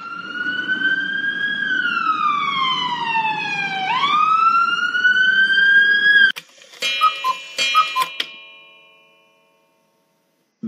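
Police car siren in a wailing sweep, rising and falling loudly for several seconds, then cutting to a burst of bright clanging metallic hits that fade into silence.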